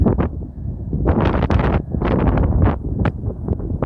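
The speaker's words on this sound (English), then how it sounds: "there's a lot of wind" Gusty wind buffets an LG V20 phone microphone outdoors, loud rumbling bursts rising and falling in quick succession with no voices.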